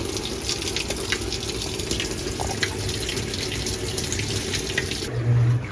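Water pours steadily into a washing machine drum in an apartment, a continuous moderate rushing and splashing with no pauses, heard alone at close range.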